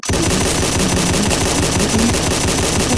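A USAS-12 automatic shotgun fires a rapid, continuous burst of loud, evenly spaced blasts that keep going for the full three seconds with no pause.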